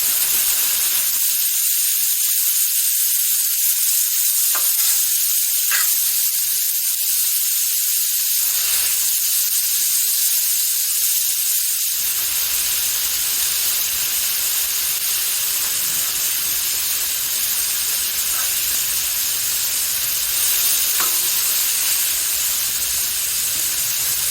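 Butter and extra oil sizzle loudly on a hot Blackstone griddle, giving a steady, close, hissing crackle that continues without a break.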